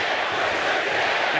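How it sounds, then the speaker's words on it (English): Lively crowd at a Creator Clash boxing event, a dense continuous roar of cheering and shouting, loud and close. "The crowd is lively."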